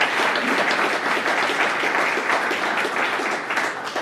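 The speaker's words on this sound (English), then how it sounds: "Let's give him a round of applause" Audience applause at a groundbreaking ceremony for a medical and research building at Stony Brook, steady dense clapping from a crowd filling the whole stretch without a break.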